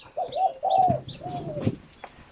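A dove coos close by in a short series of soft, low, rolling notes, with a faint higher call in the background and no talking.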